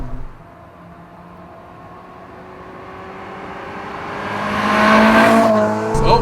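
A Ferrari 458 Spider accelerates hard, its engine note climbing steadily and growing louder, then dropping abruptly at a quick gear shift before pulling again.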